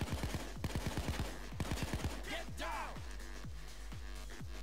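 Rapid bursts of gunfire in the video game Payday 2, with clusters of sharp shots striking the player, some ringing metallic impacts, heard up close and fairly loud.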